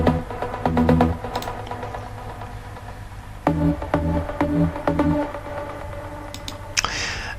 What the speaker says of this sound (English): The main pluck comes from Spire rigging and sounds like this.